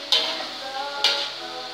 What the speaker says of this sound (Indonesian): Oke, kita aduk, campur rata.